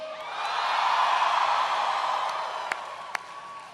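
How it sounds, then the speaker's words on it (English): A large crowd at a Florida Memorial University event cheers and applauds for Dominique in a broad roar that swells and then slowly fades, with a couple of sharp claps standing out near the end. "Can everybody please give a big round of applause to Dominique?"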